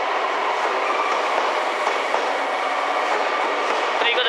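JR Kyushu 885 series white Sonic limited express train: a steady, close rail rumble and hiss with faint clicking, holding at an even loudness throughout.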